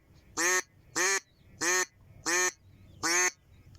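Five quick, bright quacks from a duck call imitating a young hen duck, in an even rhythm, sharper and more rapid than a slow series, close and clear.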